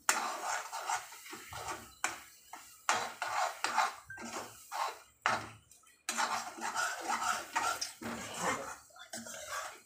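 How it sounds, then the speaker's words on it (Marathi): Prawns are stirred and sautéed in masala in a pan for kolambi rassa, giving intermittent metallic scrapes and clinks of a spoon against the pan, fairly close and quiet. "मसाल्यामध्ये 2 मिनटं हे छान परतून घेऊया हे प्रॉन्स आपण"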